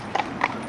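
A working horse walks along a gutter, its hooves striking the ground in three evenly spaced clip-clops, close and clear over a steady outdoor background.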